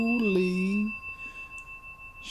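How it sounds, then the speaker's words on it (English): A bell struck once in a recording from a ghost-themed tape, with a strong, clear ring that decays slowly over a couple of seconds, sustaining a steady high tone, while faint background noise pulses underneath. "The ghost rang the bell."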